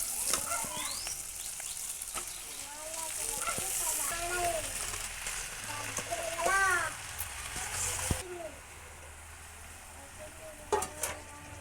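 Amaranth leaves (thotakura) frying in a pan, a steady soft sizzle with stirring scrapes and clinks throughout, birds chirping faintly in the background, quieting after a spatula knock near the end.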